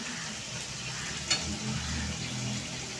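Onions frying in white refined oil give a steady, moderate sizzle close by, broken once by a brief clink of a utensil.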